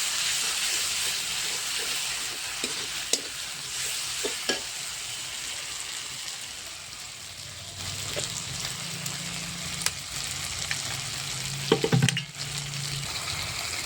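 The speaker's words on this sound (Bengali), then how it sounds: "পেঁয়াজটা এবার আমার প্রায় ভাজা হয়ে গেছে। এবার আমি এতে দিয়ে দেবো মশলা।" Onions frying in a pan with dried chilli, black pepper, coriander, ginger and garlic just added, giving a steady close sizzle broken by a few sharp stirring scrapes and clinks, with no talking.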